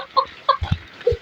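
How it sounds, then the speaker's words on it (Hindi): A small hen perched up in an apricot tree gives several short clucks, close and fairly loud, in an uneven rhythm of quick bursts with soft low thumps between them and no talking. "ये देखें मेरी छोटी वाली मुर्गी है"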